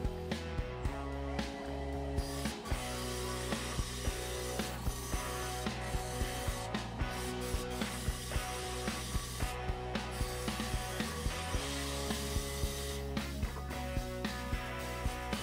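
Wood lathe spinning a chipped maple burl bowl at 2000 RPM, a steady mechanical drone with regular sharp ticks as the gouge meets the open gaps, continuing evenly with no talk.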